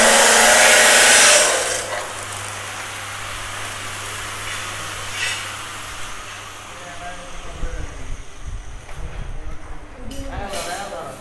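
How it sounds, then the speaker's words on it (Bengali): A corn threshing machine runs inside a workshop, a steady loud mechanical roar that swells at the start then settles into a continuous drone with knocks and clatter, and people talk over it. "এগুলো হচ্ছে আমাদের ভুট্টা মারাই মেশিন"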